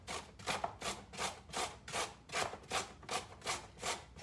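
A large carrot rubbed down a grater in about ten steady, rhythmic strokes, each a soft rasping swish, quiet and close with no voices.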